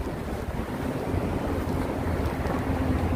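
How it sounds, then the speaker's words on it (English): Wind gusts across a Manhattan street in Midtown East on a cool March evening, producing a continuous loud rumbling buffet against the microphone with no clear breaks. "It's a little windy. It's getting later, so it's normal for the wind to pick up a little."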